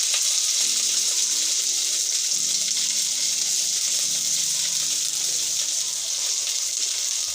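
Cloves, cinnamon, cardamom and chicken pieces frying in hot oil for a Bengali braised chicken dish, giving a loud, constant sizzle and hiss throughout with a faint background tone.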